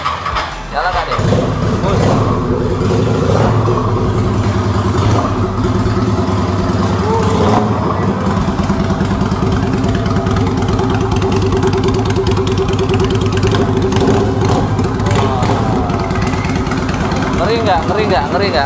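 A modified 2010 motorcycle engine fires up and revs hard, a loud steady rumble filling the whole stretch with throttle blips on top, while people talk excitedly close by.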